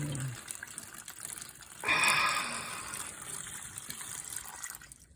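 Water pours into a bag during a gluten experiment, a bright splashing gush starting abruptly and continuing steadily for a few seconds at close range, with faint background noise.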